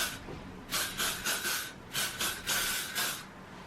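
Hair spray being applied to thin hair for beachy waves, a string of about eight short, sharp hissing bursts in quick succession, close and loud, with no talk.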